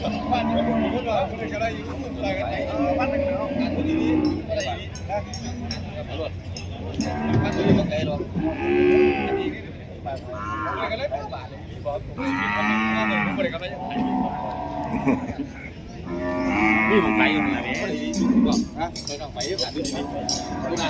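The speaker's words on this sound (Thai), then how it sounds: "มีควายสองตัว" Water buffalo and cattle moo repeatedly at a rural livestock market in Roi Et, Thailand, with long low calls rising over constant crowd chatter and nearby talking.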